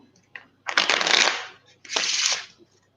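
Playing cards are riffled twice in quick succession, each a loud, crisp fluttering burst, with a soft tap before the first.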